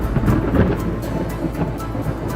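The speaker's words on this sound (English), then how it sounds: "you want to move on to your thunder strikes" Thunder strike from a sound effects library: a loud, sustained rumble with cracking bursts near the start, rolling on steadily with a rain-like hiss throughout and no voices.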